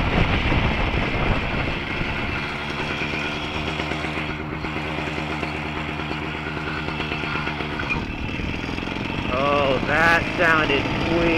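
Motorbike engine running with a weird noise from the cylinder, a close, steady rhythmic chugging drone that cuts out near the end, followed by a brief animal bleat.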